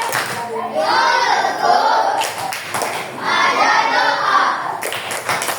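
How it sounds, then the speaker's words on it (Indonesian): Fourth-grade pupils in a classroom perform the 'tepuk anak sukses' clapping chant, two bursts of rhythmic group clapping mixed with children's chanting voices, separated by a short lull. "Tepuk anak sukses"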